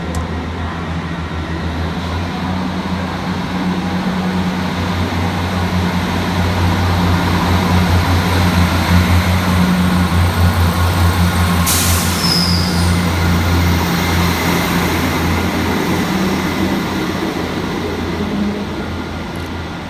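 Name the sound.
Northern class 158 diesel train departing Manchester Victoria station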